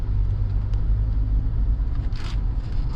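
A used car rolls along on a test drive, giving a low, steady engine and road rumble from inside the cabin with a brief brighter swish near the end.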